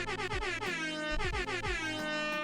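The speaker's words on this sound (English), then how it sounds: "I need to put like 7 air horns." Loud air horn blasts repeat in quick succession, blaring and overlapping in a rapid, comical sequence.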